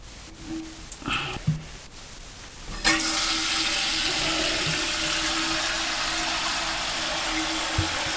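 Water rushes steadily into a toilet tank during a repair, filling toward the overflow pipe after a few faint clicks and knocks, a continuous close hiss lasting several seconds.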